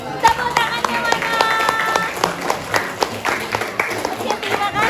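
A class of students claps in a lively, uneven burst of applause, with sharp individual claps and voices talking and calling out over it.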